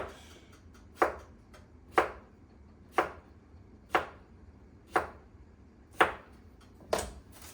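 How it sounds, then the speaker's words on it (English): A knife chops vegetables into rough half moons steadily on a cutting board, about one firm, close chop per second, eight in all, with no talking. "we can actually start to get chopping"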